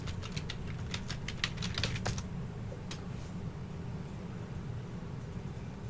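Quick, uneven bursts of keystrokes on a computer keyboard rattle close by over a steady low hum, trailing off into a few isolated taps.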